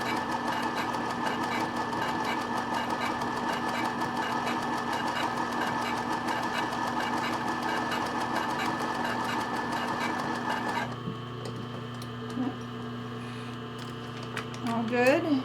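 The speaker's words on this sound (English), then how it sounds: "I'm going to just stitch it right across, kind of at the top of where each of these scallops hit" A sewing machine stitches lace trim straight across the top of the scallops on a bra, running in a steady, continuous mechanical whir close by, then stopping near the end as brief faint handling noises follow.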